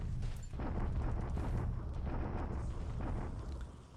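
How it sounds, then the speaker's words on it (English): An artillery bombardment in the War in the Pacific strategy game rumbles as a string of deep, booming impacts rolls on continuously, heavy and muffled, with no voices. "It's a pretty decent bombardment now."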